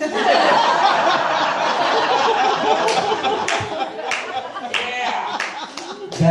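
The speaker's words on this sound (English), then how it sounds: "That joke got a way bigger applause from it." A stand-up comedy audience breaks into a long, dense burst of applause mixed with chuckles and laughter, loud and close, with a few sharper claps and cheers standing out.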